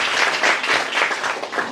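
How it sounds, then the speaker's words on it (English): Audience applause at a book launch fills the whole short stretch, a dense steady wash of many hands clapping at close range with no voices on top. "Let's give him a round of applause."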